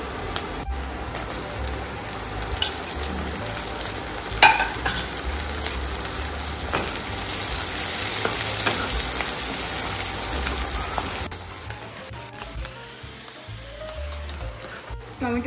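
Chopped onions and tomatoes fry in a pan for Mumbai-style pav bhaji, with a steady, close hiss and sizzle and occasional faint stirring clicks, without any talk.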